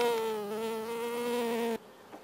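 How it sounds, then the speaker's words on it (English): A honey bee near an opened garden hive gives a close, steady, droning buzz that holds for nearly two seconds, then cuts off, leaving quiet air and one faint later buzz. "let's go check out these bees now"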